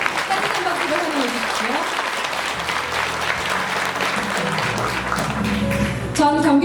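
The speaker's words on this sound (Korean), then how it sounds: "따뜻한 박수로 환영해" An audience gives steady, dense applause welcoming a guest at a book launch event, a full room of clapping that continues evenly throughout, with a voice briefly heard near the end.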